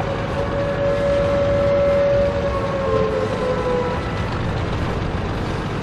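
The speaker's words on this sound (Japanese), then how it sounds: "この鳴り続けるサイレン結構嫌。" A steady wailing siren drones on in a World of Tanks match running a Girls und Panzer mod, a sustained tone held over a rumbling engine and battlefield noise, fairly loud and continuous.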